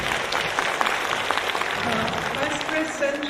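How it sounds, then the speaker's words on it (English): A conference audience at a Taiwanese dermatology meeting claps for Professor Zhao, a steady dense patter of many hands throughout, with a voice speaking faintly over it near the end. "Let's give a big round of applause for Professor Zhao."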